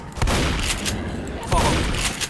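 Rapid bursts of gunfire in the zombie shooter Left 4 Dead, two loud volleys about a second apart over a steady background din.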